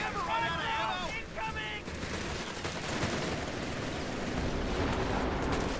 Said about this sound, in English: Crucial suppression from the MG42.